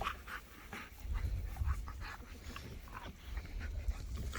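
A dog pants and whimpers close by with soft repeated huffs and yips, fairly quiet and continuous.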